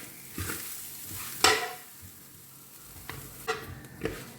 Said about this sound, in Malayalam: ഇത് മീഡിയം ഫ്ലെയിമിൽ വറുത്തെടുക്കാം ആദ്യം അല്പം തീ കൂട്ടിയിട്ടതിന് ശേഷം മീഡിയം ഫ്ലെയിമിൽ വറുത്തെടുക്കാം